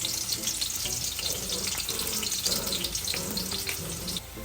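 Garlic and onion sauté in a hot pan, a bright continuous sizzle with crackling bursts that eases off at the very end.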